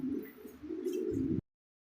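A pair of red Bombay crested pigeons gives a low, throaty coo, close and steady for about a second and a half before cutting off abruptly.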